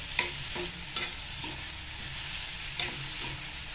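Finely chopped onion sautéing in a pan, a steady close frying hiss with a few sharp spatula scrapes and clicks spread through it; no talking.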